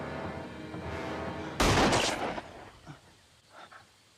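A gunshot in a tense TV drama standoff: one sharp, loud shot rings out suddenly after quieter tense sound, then decays with a lingering echo.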